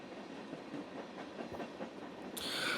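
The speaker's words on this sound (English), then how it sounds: "Kanan and Sadaka made their way through the train" Train riding along rails in the video game 428: Shibuya Scramble, a steady rumbling carriage noise with soft rhythmic clacks, rising into a brighter hiss near the end.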